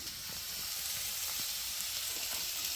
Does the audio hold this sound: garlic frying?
yes